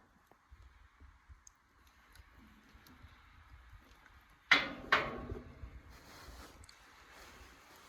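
Large windmill gears with two Pitman arms are spun by hand on an oil-change service. Two sharp metallic clanks land close together, followed by a lingering rumble and faint wind noise, with no talk.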